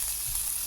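Egg frying with ground spices in a pan, jackfruit curry in progress: a brief, steady hiss of sizzling oil, close and even, with no voices.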